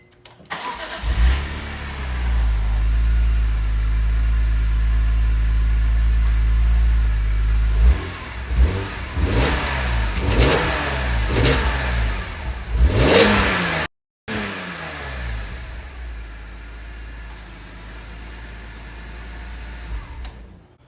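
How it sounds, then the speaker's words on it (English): A stock-exhaust BMW E46 M3 idles loudly nearby, then is revved in a series of sharp, rising blips before a brief cut and a quieter settle back to idle; no talking. "So yeah, stock exhaust doesn't sound that great."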